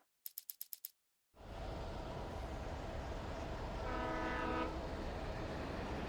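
A train rolls past in the video game Alan Wake, opening with a quick burst of sharp rhythmic beeps, then a sudden steady roar of rail noise with a long horn blast rising in the middle, loud and near.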